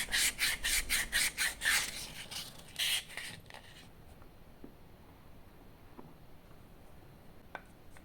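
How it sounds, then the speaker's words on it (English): A Honda motorcycle clutch lever is scrubbed clean by hand. About nine quick, rhythmic rubbing strokes come close up, then it falls quiet with only a few faint clicks. "I'll clean this lever a bit and reinstall it with a new pin."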